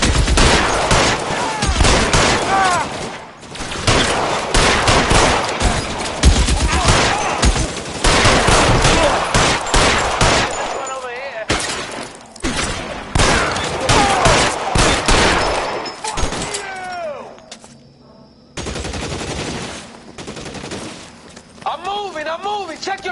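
Rapid bursts of gunfire crack and rattle through a shootout in the video game L.A. Noire, loud and close with dense volleys and brief lulls, while voices shout over the shots.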